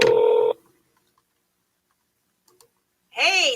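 A telephone dialing tone sounds loudly for half a second, followed by near silence with a couple of faint clicks, then a warbling ring tone begins at the end.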